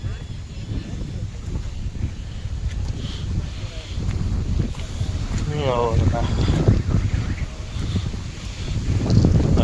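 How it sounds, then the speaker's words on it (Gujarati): Strong wind off the sea buffeting the microphone in low rumbling gusts by a waterlogged company parking lot at Hazira, with a voice speaking briefly partway through. "પવન આવે છે એટલે તમે વાત પૂછોમાં, કેમ કે આપણે આ દરિયા કાંઠો જ છે."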